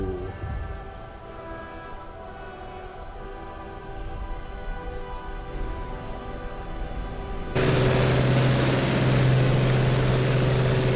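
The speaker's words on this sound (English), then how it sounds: "look at all of those Luftwaffe planes coming in to destroy our fine artillery" Several WW2 Luftwaffe propeller planes fly in during a WW2 Eastern Front video game battle, a steady droning engine hum that swells into a loud, dense roar for the final few seconds.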